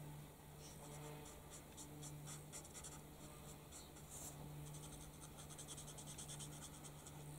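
Copic markers scratch and rub across paper in soft, repeated strokes, quiet and close, with faint background hum underneath.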